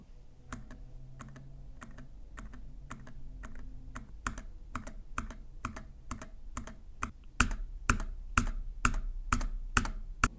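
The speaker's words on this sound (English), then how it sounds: "If you press this spacebar very softly, it makes almost the same volume of sound as if you press it super hard." Repeated clacks of a Keychron K3 Max mechanical keyboard spacebar, pressed at a steady pace, some taps soft and later ones louder, close up with no talking.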